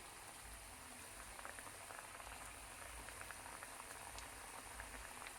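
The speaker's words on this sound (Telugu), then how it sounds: "ఒక్కొక్కటిగా వేసేసుకుంటూ కొంచెం మీడియం ఫ్లేమ్లోనే వేయించుకోవాలండి" Mini biscuits deep-frying in oil over a medium flame, giving a faint, even bubbling and crackle that carries on without a break.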